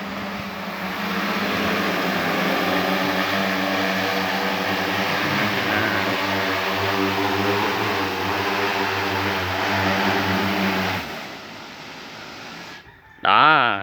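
A remote-controlled crop-spraying aircraft passes close overhead with a steady, loud buzzing propeller drone for about eleven seconds, then cuts off abruptly before a brief high whine at the end.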